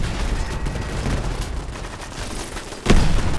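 A grenade launcher firing grip shots in a modded shooter game: continuous, dense rumbling blasts of explosions and gunfire, with a louder boom near the end.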